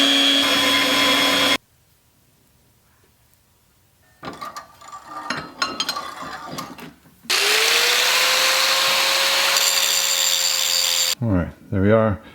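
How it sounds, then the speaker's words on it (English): Power tool cutting pieces out of a motorcycle front suspension brake mount for a Grom: a loud, steady high whine runs in two long stretches, separated by quiet handling noises and a brief clatter. "I've got to cut out some pieces around here so I can fit around this bolt and this piston."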